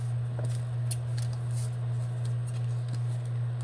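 Scissors snip through paper during a paper craft, a few quick, crisp close cuts over a steady low electrical hum.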